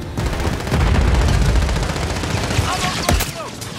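Dense, loud automatic gunfire rattles continuously through a Call of Duty Modern Warfare 3 multiplayer firefight, rapid overlapping shots with a few sharper cracks, close and relentless.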